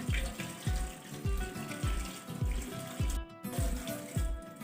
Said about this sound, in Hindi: हम टैप वाटर खोलेंगे और इसको अच्छी तरह हम वॉश कर लेंगे।